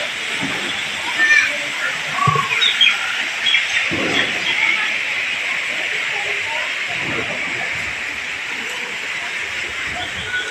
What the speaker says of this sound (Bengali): ঝর্ণার কলকল শব্দ